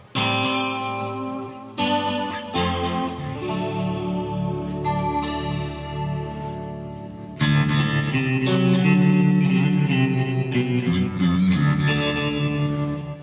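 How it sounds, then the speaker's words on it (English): An electric guitar plays sustained chords through a shimmering stereo chorus effect from a Line 6 HX Effects unit, loud and full, with a brief pause before the chords swell back in. "You're going to hear things like stereo chorus."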